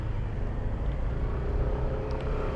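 A car drives past on a road beside a construction site in Parañaque, its steady engine rumble continuous and fairly close throughout.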